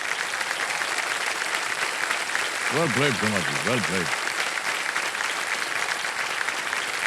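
Studio audience applause fills a TV quiz show set (KBC), steady and dense throughout, with the host's voice briefly speaking over it partway through.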